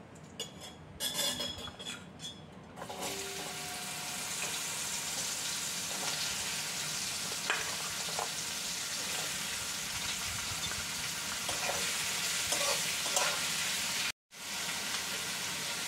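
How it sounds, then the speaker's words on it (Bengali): Snake gourd frying in hot oil in a wok after prawns, a steady close sizzle running throughout with occasional clinks of a utensil against the pan and a brief break near the end. "এবার এই তেলের মধ্যেই চিচিঙ্গাগুলো ভেজে নেব।"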